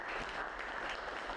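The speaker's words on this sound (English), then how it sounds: "So I'd like to just everyone give a round of applause to Larry" Audience at a Huron marine and economic forum applauds Larry McKay, a steady wash of clapping throughout, moderate and somewhat distant, with no voices standing out.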